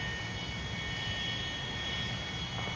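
A simulated F-100D jet engine idles steadily in DCS World after a cold start, a constant whining roar with a high tonal whine that stays level and unbroken throughout.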